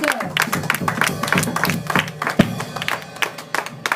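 A church congregation claps together in a fast, uneven burst of many hands close by, with scattered voices and a sharp thump partway through.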